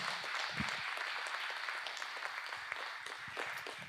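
Church congregation claps during a worship service, a continuous crowd of hand claps heard quietly from a distance, with a few sharper individual claps standing out.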